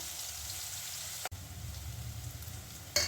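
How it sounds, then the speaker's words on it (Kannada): Chillies and onions fry in a pan with a soft, steady sizzle, quiet and close, broken by a brief clatter near the middle and a sharp scrape near the end. "ಮೆಣಸಿನ್ಕಾಯಿ ಹಾಕೋತಾ ಇದ್ದೀನಿ ಈರುಳ್ಳಿ ಕೆಂಪು ಅದಕ್ಕೆ ಬರೋ ಹಾಗೆ ಬೇಯಿಸ್ಕೋಬೇಕು"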